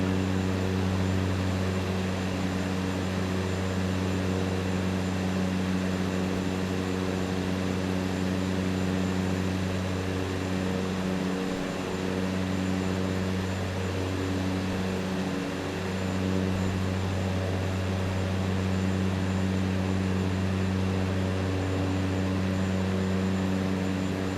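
Propeller aircraft engine in Microsoft Flight Simulator 2024, a steady, continuous droning hum with strong low tones, holding even for the whole stretch with no talk over it.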